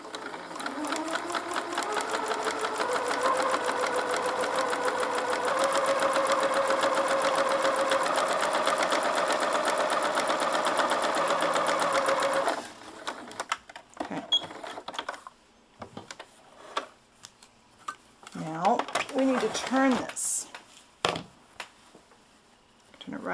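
A sewing machine stitches a narrow seam in fleece for a miniature dollhouse sleeping bag, a steady, fast mechanical whir for about twelve seconds, then stops and gives way to quieter handling noises and a voice talking.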